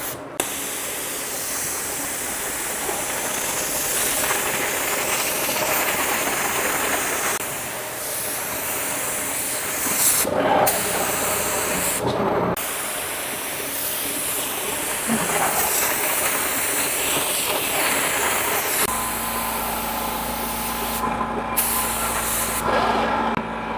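LVLP paint spray gun spraying sealer onto a car bumper cover: a continuous loud hiss of air and atomized spray with a few brief breaks and changes in tone, close to the listener.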